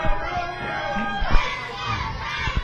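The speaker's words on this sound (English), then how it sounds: "We got a dueling "Let's go Romeo, Let's go Tyson" chant going on in the crowd here right now." A wrestling crowd at an NWA Atlanta event, November 2015, trading dueling chants: rhythmic, shouted voices from a large audience, loud and continuous, with rising bursts of cheering.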